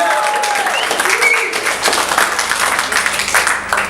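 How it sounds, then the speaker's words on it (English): Audience at a rap battle event applauding and cheering, dense steady clapping with shouts and whoops throughout, loud and close. "make some noise for Sevah"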